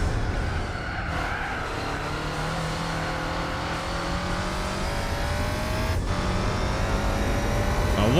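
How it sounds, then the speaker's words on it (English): Race car engine in Gran Turismo 4 roars steadily and loud throughout, with shifting engine tones and a brief gear-change dip, no talk over it. "I love the sound of this engine."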